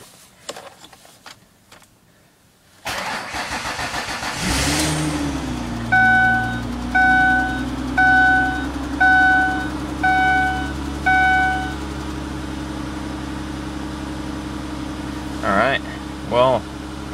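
A Ford 3.0 Duratec engine is started in frigid cold: a short crank, then the engine catches and runs rough and strained, with a loud rising roar settling into an uneven idle. A row of six evenly spaced chimes sounds over it.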